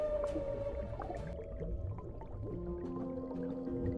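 A male sea creature sings a complex underwater song of long drawn tonal moans and rising notes, with scattered clicks and watery crackle over a low rumbling ocean background.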